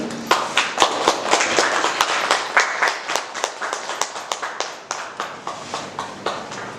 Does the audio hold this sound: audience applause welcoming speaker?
yes